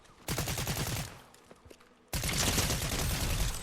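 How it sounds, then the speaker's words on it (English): Gunfire in the video game Fortnite, loud dense bursts of rapid shots, a first volley that fades away and then a second sustained barrage, with no voices during the firing. "Yeah, I see the gunshots."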